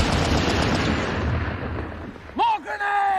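A dense roar of battlefield machine gun fire in a World War I trench fight fades over a few seconds before shouting voices break in at the end.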